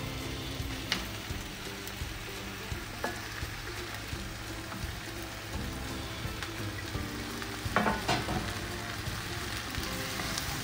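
Fried chicken pieces go into a pan and are stir-fried with vegetables for homemade kung pao chicken, giving a soft, steady sizzle with a few light scrapes and stirs, alone with no talk.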